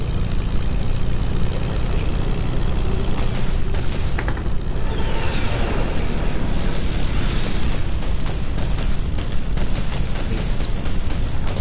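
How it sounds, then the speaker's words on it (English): Propeller airplane engine in a video game, a loud, dense, continuous drone and roar that holds steady throughout with slight shifts in texture. "I'm in the plane too. I'm just flying over to you now."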